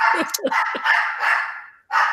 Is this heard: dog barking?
yes